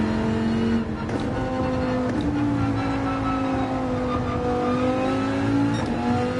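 A racing car in Gran Turismo 7 pulls out of a corner on throttle. The engine note climbs steadily through shifts, loud and close, with a brief tire scrub and no talk.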